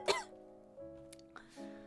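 A sharp cough bursts out at the start, followed by quiet tonal hum and a second throaty sound near the end; fairly faint overall.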